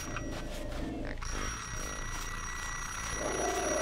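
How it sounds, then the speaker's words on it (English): An alarm rings in the video game Sir, You Are Being Hunted, a steady bell-like tone that continues throughout. "Is that alarm going off?"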